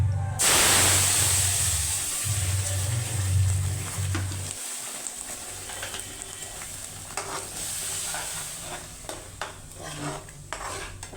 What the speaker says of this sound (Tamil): வீடியோக்காக தாளிக்கிறோம்